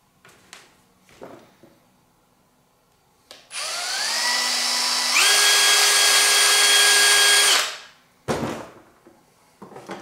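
A power drill with a 1.5mm bit whines up to speed, steps higher in pitch and runs steadily for several seconds boring through timber, then stops, with a few clunks and taps before and after.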